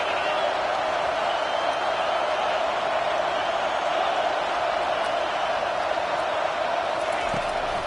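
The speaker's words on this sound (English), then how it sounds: "And how loud is it in this building? This is crazy. These fans are going absolutely nuts." Roaring stadium crowd at a Michigan college football game, a loud, dense and sustained wall of cheering that holds steady with no break.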